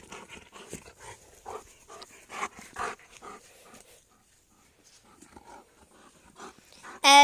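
A dog playing with a ball pants rapidly and lets out low growls, close by, in uneven bursts that pause briefly before a sharp louder sound at the end.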